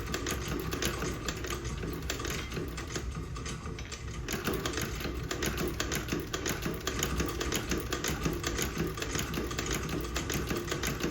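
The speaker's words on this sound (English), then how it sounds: "Getting used to this treadle." A Singer 29 patcher treadle sewing machine, once used for repairing riding boots, runs steadily under foot power, giving a continuous dense mechanical clatter with rapid repeating stitch ticks throughout, close and fairly loud with no talking.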